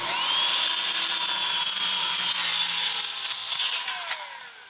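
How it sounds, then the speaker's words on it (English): A DeWalt circular saw cuts through wood with a loud, sustained high-pitched whine for several seconds, then winds down at the end of the cut, close by with no voices. "Now we're going to cut with the DeWalt saw and see how it does compared to the Metabo HPT."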